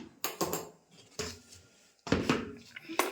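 Roasted chickpeas tipped into a kadhai (wok) for laddoos, giving three clusters of close, rattling clatter separated by brief pauses.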